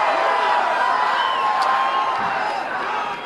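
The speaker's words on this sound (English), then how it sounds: "What a crowd." A large crowd at a political rally for the Wisconsin governor roars and cheers steadily, a dense, loud wash of voices with scattered whoops that holds for a few seconds before easing slightly at the end.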